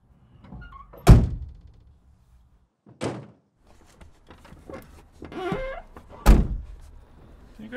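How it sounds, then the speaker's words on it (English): A door slammed shut several times, each a loud close thunk, with a quieter rattle and shuffling in between and no talking. "He either slams the hinges off or does the old gust of wind."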